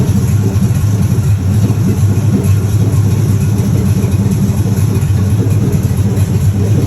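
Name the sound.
1967 Pontiac Firebird engine running, shifting gears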